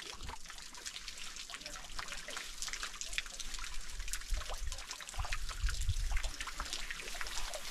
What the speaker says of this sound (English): The stones are dripping.